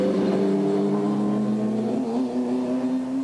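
An Indy race car engine at 1991 Vancouver Indy qualifying gives off a sustained, buzzing whine whose pitch shifts slightly as the car passes, steady and moderately loud throughout.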